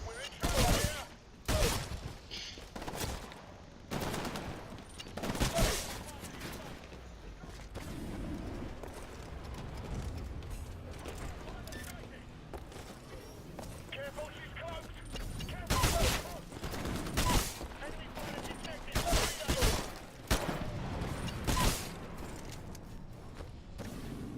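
Rapid bursts of auto pistol fire from the Titanfall Frontier Defense mode cut down enemy grunts, with loud, close shots in clustered volleys over a busy bed of game noise.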